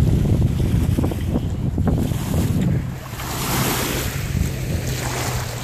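Waves washing onto a big beach at Killbear Provincial Park, a continuous rolling surf with heavy wind rumble buffeting the microphone, loud and close.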